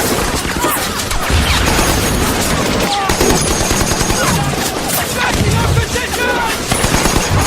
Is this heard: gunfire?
yes